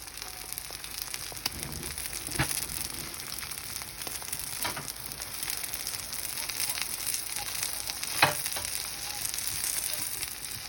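Korean pajeon studded with squid and green onion fries in an oiled pan, giving a steady, soft sizzle with faint crackles and a few brief clicks, fairly quiet and without any voices.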